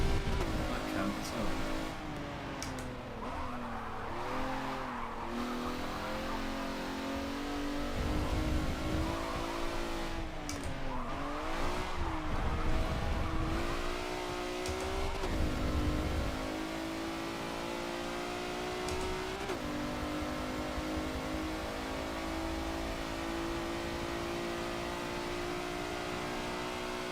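A race car in the Forza Motorsport 7 video game revs and accelerates continuously, its engine note rising and falling through gear changes, with brief tire squeal.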